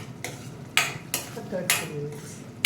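Ginger garlic paste fries in a pan, with a handful of sharp scraping strokes from a spoon stirring it over a soft sizzle, fairly close and with no talking.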